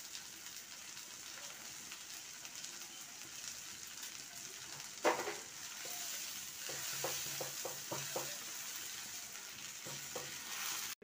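Tomato and garlic frying in a pan, a steady soft sizzle with a burst of crackle as they hit the oil, then scattered light stirring taps, moderately quiet and close.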